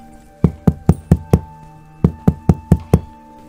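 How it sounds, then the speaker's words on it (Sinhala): A cartoon character knocks loudly on a wooden door, two quick bursts of five sharp, evenly spaced knocks separated by a short pause, close and clear with no voices. "ඇය ගෙදර ළඟටම ගිහින් හයියෙන් දොරට තට්ටු කළා"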